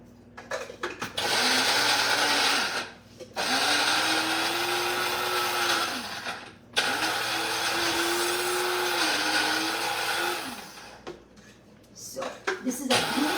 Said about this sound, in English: I'm going to add it here and I'm going to blend it real quick